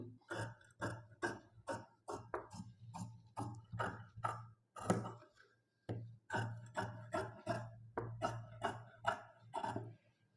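Scissors cutting the back piece of a blouse from fabric, a rapid run of crisp snips in a steady rhythm with one short pause, close and clear, no voices.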